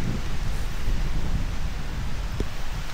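Wind gusting across a beach campsite at Patar White Beach, Bolinao, on a rainy day, a steady, loud, rushing roar with no let-up and no voices.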